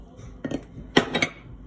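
Chopped celery goes into a cooking pot already holding carrots, onions and garlic, making a few quick clattering knocks of utensil and pot rim close by.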